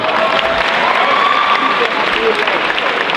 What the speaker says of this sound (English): Give a round of applause for your vice presidential candidates, Ms. Sarah Martin.